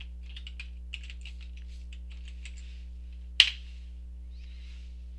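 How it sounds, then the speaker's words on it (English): Password being typed on a computer keyboard, a string of soft, quick key clicks in uneven rhythm over a steady electrical hum, ending with one sharp louder keystroke like a hard Enter press. "I'm going to type in my password."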